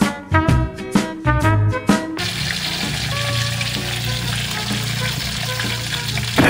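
Fish frying in a pan: a few short clattering bursts give way to a loud, steady sizzle of hot oil that carries on without pause.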